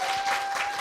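Audience at a middle school speech festival applauding steadily, a dense, even wash of clapping that fills the whole moment without any voices over it.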